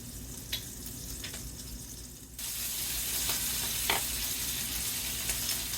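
Thin apple slices sauteing in a pan for a bacon, apple and brie burger, a steady close sizzle that jumps louder partway through, with a few faint clicks of utensils and no talk.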